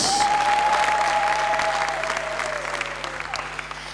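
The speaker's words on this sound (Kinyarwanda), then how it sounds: "Komera Imana amashyi." Congregation applauding inside an Anglican cathedral in Rwanda, a dense, steady roar of many hands clapping at close range that gradually thins and softens toward the end, with a faint sustained tone running beneath.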